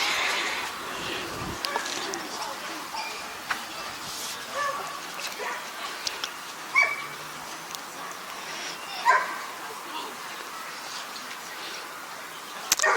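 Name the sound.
puppies barking and whimpering at a dog show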